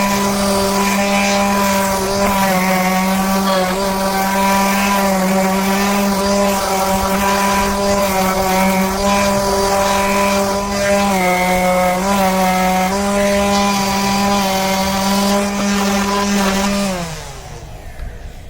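A power sander with 220-grit paper working wood for a shelf light, a loud close steady motor whine with a sustained hum that runs without pause, then winds down near the end.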